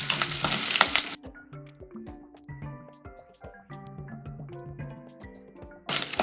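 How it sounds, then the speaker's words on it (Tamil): Finely chopped garlic sizzles loudly in a clay pot for amaranth stir-fry, a bright hiss at the start that cuts to gentle instrumental music, then returns briefly at the end. "அதையும் நல்லா வதக்குவோம்."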